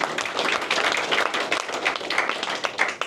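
An audience at a youth power event claps quickly for a few seconds. The claps are dense and fairly close, with no talking over them.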